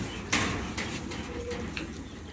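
A breeding pigeon coos in a pigeon loft, giving a few soft, close calls mixed with sharp knocks and rustling.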